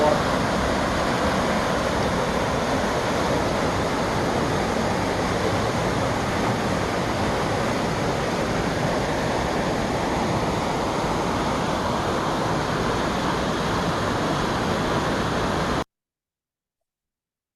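Powerful waterfall in Slovenia's Triglav National Park pours in a constant, dense roar of churning water, heard up close and unbroken for about sixteen seconds before cutting off abruptly.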